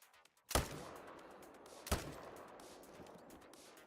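Two sharp rifle shots fired at game animals in a hunting video game, the first at about half a second and the second more than a second later, each loud and close with a short ringing tail over a quiet outdoor ambience.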